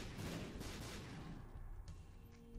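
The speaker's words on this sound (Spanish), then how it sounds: "Es que son muchas explosiones." Rapid overlapping explosions in The Binding of Isaac: Repentance, a dense rumbling barrage of blasts that stays loud and continuous, then thins slightly toward the end.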